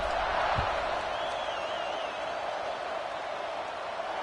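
A stadium crowd in a college football video game keeps up a steady, dense roar after a score, with a distant whistle-like tone drifting through.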